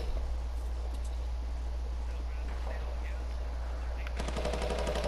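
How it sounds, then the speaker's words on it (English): Rapid automatic gunfire in the video game Fortnite sounds as dense repeated bursts over a constant low hum, growing louder and sharper near the end. "Oh shit, someone's shooting."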